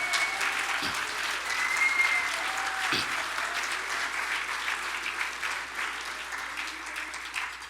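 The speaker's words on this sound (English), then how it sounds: "Let's give him a round of applause, and everyone." Applause from the audience at the IGFA Tommy Gifford Awards 2021, an even roomful of clapping that goes on for several seconds, with a couple of low thumps near the start.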